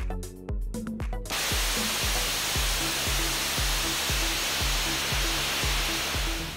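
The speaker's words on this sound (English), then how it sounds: "engineers recently conducted a final hot-fire test in Promontory, Utah, of the abort motor built for the launch abort system on NASA's Orion spacecraft" The abort motor for the Orion spacecraft's launch abort system fires in a static hot-fire test at Promontory, Utah, a loud, sustained roaring rush that starts abruptly and holds steady, with rhythmic music pulsing underneath.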